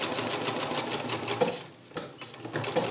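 A sewing machine stitches straight over a seam on a DIY bridge-style under quilt with baffles, running in a steady rapid whir that pauses briefly near the middle and then resumes, close and clear with no talking.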